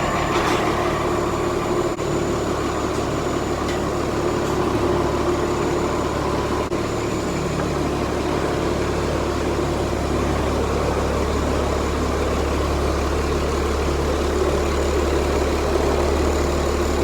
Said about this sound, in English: We're gonna start this tractor up